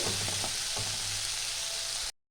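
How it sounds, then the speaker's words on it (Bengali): Chopped tomato sautéing in spices in a hot pan for a Bengali katla fish curry, giving a loud, steady, close sizzle and crackle with no talking, ending abruptly. "সাথেই দিয়ে দেবো কুচিয়ে রাখা একটা টমেটো। ভালো করে আমার কষিয়ে নেবো আমি।"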